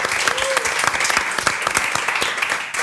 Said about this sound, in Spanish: queremos darle un gran aplauso a los expositores de hoy